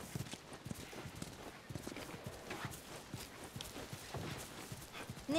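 Horse hooves clip-clop steadily in The Last of Us video game at Tommy's hydroelectric dam. The rhythm stays even and moderately near, set against a constant ambient wash, with no speech.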